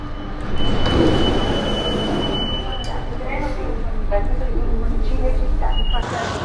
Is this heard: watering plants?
no